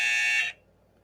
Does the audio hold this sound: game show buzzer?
yes